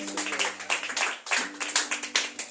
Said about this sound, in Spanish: le doy un aplauso a la palabra